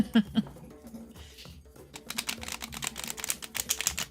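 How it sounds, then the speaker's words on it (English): A deck of tarot-style cards with gilded edges is riffle shuffled up close, a quick burst of crisp, fluttering card patter building after a few soft handling taps. "I'm going to do a riffle just because it's fun."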